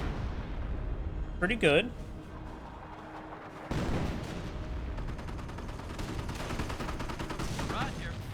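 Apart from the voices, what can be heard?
25-pounder artillery barrage in Company of Heroes video game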